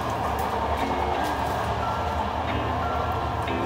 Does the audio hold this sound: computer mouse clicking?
no